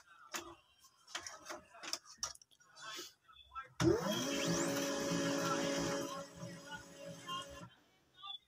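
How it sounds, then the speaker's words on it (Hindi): A Samsung ML-1676P laser printer powering on with a red-light fault runs its initialisation cycle: a steady mechanical whir with clicks that holds for several seconds, preceded by scattered ticks and handling noises, nearby and moderately loud. "ये देखेंगे हमारा प्रिंटर थोड़ा सा इंसलाइज करके उसके बाद ये लाइट जला के इसी पे रुका रहता है।"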